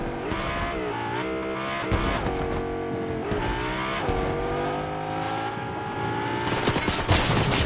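A car driving in the video game Fortnite, its engine revving hard and shifting pitch continuously with tyre squeals and bursts of gunfire mixed in, loud and unbroken from start to finish, with no talking.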